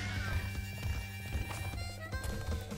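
Hog riding in Crash Bandicoot's Hog Wild level, with steady clip-clop hoof patter and animal squeals over a busy game music bed, continuous and near.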